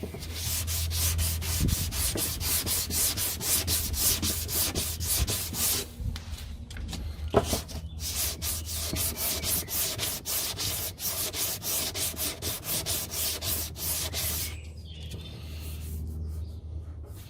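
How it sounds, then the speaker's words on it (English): Continuous rapid back-and-forth wet sanding of body filler on a car's front wing with a sanding block, gritty rubbing strokes at a steady pace, close and loud, with a brief pause midway. "Still using this this block, and I'm just wet sanding this now"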